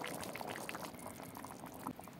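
A thick tomato and pepper mixture bubbles and pops steadily in a pot, quiet and close, with irregular soft plops.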